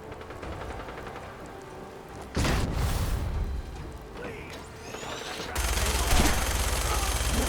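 Rapid automatic gunfire from a weak weapon in Fallout 4, Far Harbor, comes in loud sustained bursts that start and stop abruptly, with the last burst continuing to the end.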